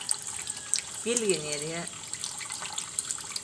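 Tap water runs in a steady hiss for a parakeet's bath, with people talking over it throughout.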